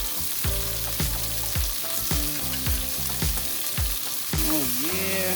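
Beef for stroganoff hits a hot pan in a single layer, a bright continuous sizzle close up with repeated scraping and clinking as the pieces are moved, and no voices.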